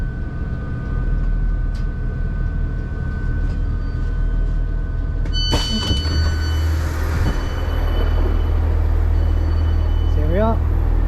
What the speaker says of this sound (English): Let this train go out